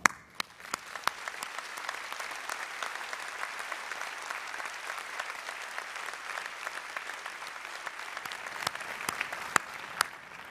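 Medical school commencement audience applauds, a sustained wash of many hands clapping at even volume through ten seconds, with a few sharper individual claps standing out near the start and end.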